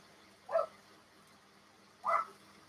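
A dog gives two short, separate barks about a second and a half apart against a quiet indoor background, moderately close but not loud.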